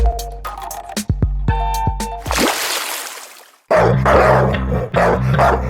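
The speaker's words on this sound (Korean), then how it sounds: "개들이 정신없이 짖기 시작합니다." Several dogs, including a husky and a retriever, barking frantically in sharp loud bursts, then a rush of noise and renewed overlapping barking up close.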